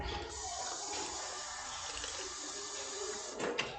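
Water running steadily from a tap into a sink, a continuous broadband hiss that holds at an even level, with a brief splashy surge near the end.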